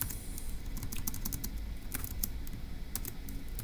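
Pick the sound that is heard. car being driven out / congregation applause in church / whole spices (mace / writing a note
writing a note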